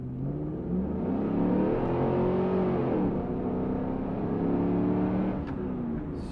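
A 2002 Chevrolet Camaro SS V8 accelerates hard, its engine note rising steadily and loud for several seconds with no talking.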